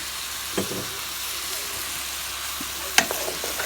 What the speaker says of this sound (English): And I'm using that to deglaze the bottom.